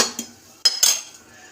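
A spoon stirring vegetarian masala khichuri in a metal pot, giving a few close, bright clinks and scrapes against the pot in quick succession.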